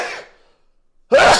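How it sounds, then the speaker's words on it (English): Sharp, loud sneeze from a man, close to the microphone, following a short fading breath and a pause of silence. "I normally never ever sneeze on stream."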